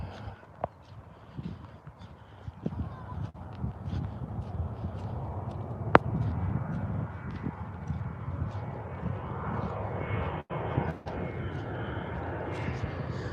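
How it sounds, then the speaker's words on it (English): Airplanes pass overhead near Edinburgh Airport, a broad low steady engine rumble filling the background outdoors at Cammo, with scattered faint knocks and some distant voices. "we're close to Edinburgh Airport, so we've got the planes flying over our heads"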